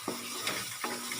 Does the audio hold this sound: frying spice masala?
yes